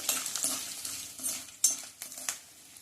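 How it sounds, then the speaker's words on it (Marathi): Peanuts fry in oil in a pan, giving a faint crackling sizzle broken by scattered clinks and stirring scrapes, close and soft. "शेंगदाणे छान तळून घ्यायचे ह्यामध्ये"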